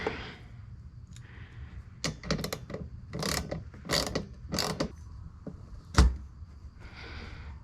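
Windshield washer nozzles being tightened on a 2023 GMC Sierra give a series of close, irregular plastic clicks and ratcheting snaps, ending in one sharper knock and a faint rustle.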